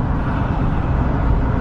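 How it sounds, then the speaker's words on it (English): Steady road noise from bumper-to-bumper car traffic in Chicago on a Saturday afternoon, a continuous low rumble of many engines at a constant level with no distinct passes or voices. "It actually just started moving the traffic,"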